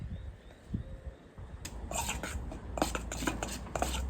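Egg, sugar, butter and milk being stirred together into a cake batter for a campfire dessert, a spoon clinking and scraping repeatedly against the bowl in a quick, steady rhythm, close and fairly loud.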